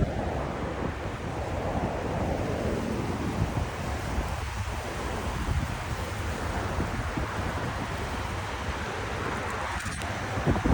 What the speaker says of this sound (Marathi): हे बघा फुल हवा आहे आज